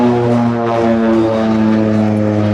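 North American OV-10B Bronco twin-turboprop aircraft at an air show: loud, steady propeller and turbine drone with strong sustained tones, close by and continuous with no talking.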